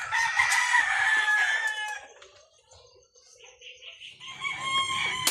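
A rooster crows loudly and close by, a long strained call, followed by quieter scattered clucks and farmyard noise.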